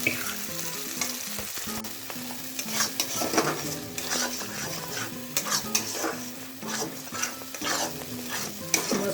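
Ground masala frying in a few spoons of hot oil for a paneer and pea curry, sizzling steadily while a spoon scrapes and stirs against the pan in repeated clinks, close up with no talk.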